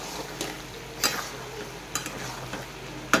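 Mutton cooks over low heat in a pan, a quiet background sizzle with a few sharp clinks and scrapes of a spoon against the metal spaced apart, near and without speech.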